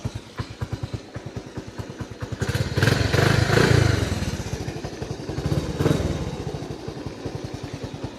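A Honda C90 Cub motorcycle engine runs with a steady, close single-cylinder putter, rising in a rev for a few seconds midway before settling back to an even idle.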